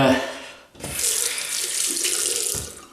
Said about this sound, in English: Right, rinse my hands. Rinse the razor.